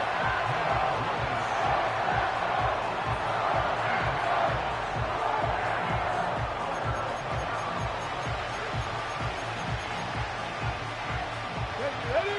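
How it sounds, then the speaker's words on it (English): A football stadium crowd roars steadily during an NFL game between Green Bay and New Orleans ahead of a third-and-long play, a dense, loud wall of cheering and shouting with rhythmic stomping or clapping beneath it. "The crowd cranking it up another notch before 3rd and long."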